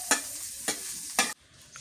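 Three sharp bursts of stirring and sizzling as chili powder fries in a hot pan, evenly spaced, with a low frying hiss in between that drops away at the end.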